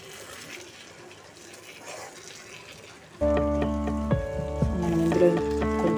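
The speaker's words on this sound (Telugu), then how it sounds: "మనం ఇందులో కొంచెం వాటర్ యాడ్ చేసుకొని" Water poured into a pan of stuffed brinjal curry sets off a sudden loud sizzle and bubbling midway, following a quieter stretch of low frying hiss.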